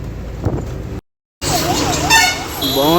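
Car horns honk in a traffic jam in Bhubaneswar at night, overlapping toots with wavering pitch; voices talk at first, then a brief silent gap before the honking.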